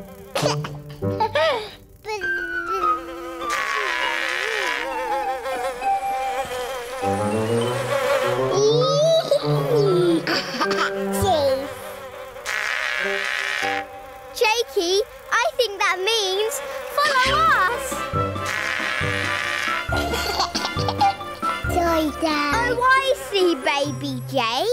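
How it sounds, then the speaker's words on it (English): Cartoon purple space bees buzzing among sticky space honey, playful warbling buzzes that rise and fall in pitch, mixed with jingly musical tones and bouncy sound effects, loud and continuous with brief gaps. "Purple space bees are making all this sticky space honey."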